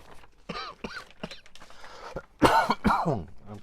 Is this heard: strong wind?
no